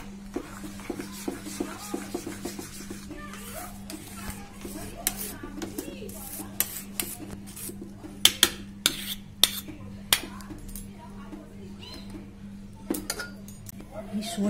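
Omelette batter with chopped capsicum and green chilli being mixed in a bowl, giving repeated light clinks and scrapes of a utensil against the bowl over a steady low hum, with quiet talk in the background.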